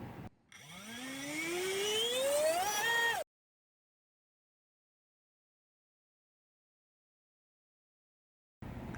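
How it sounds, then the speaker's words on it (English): A Diatone Edge racing drone motor on a 30 amp ESC and 4S 1300 mAh battery spins a 5045 bullnose propeller, whining loudly and rising steadily in pitch for about three seconds before cutting off abruptly into silence. "test number one with the 5045 Diatone propeller bullnose, and we're doing these with the 30 amp ESC on a 4S"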